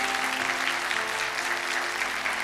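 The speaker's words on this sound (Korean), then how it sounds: "우리 박수로 한번 환영할까요?" A church congregation at Sunday worship welcomes an elder with a dense, even wash of clapping that holds steady throughout, loud and full in the sanctuary with no voices rising above it.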